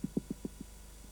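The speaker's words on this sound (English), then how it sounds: "It makes a thumping sound when it's underground to communicate with other mole rats." Five soft, low thumps from a mole rat underground, in a quick, slightly slowing rhythm, with one fainter thud trailing after a pause, all muffled and dull.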